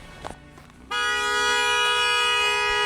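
A car horn blares in one long steady honk on a city street, loud and close, following a brief stretch of street noise.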